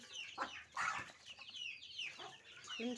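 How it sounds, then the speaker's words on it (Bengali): Village chickens clucking as they rush in for food, several birds giving overlapping soft clucks and short calls, faint and close in a quiet outdoor setting, no talk. "একটা মুরগি খাবার দিলে সব মুরগি ছুটে আসে তাই দেখেন কতগুলো মুরগি"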